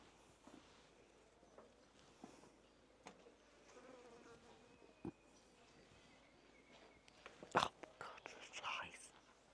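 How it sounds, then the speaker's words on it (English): Flies and other insects buzz close by at a desert waterhole near Uluru, with faint birdsong and quiet outdoor ambience, a few soft taps, and a louder burst of activity near the end. "I can hear the birds and a lot of flies buzzing."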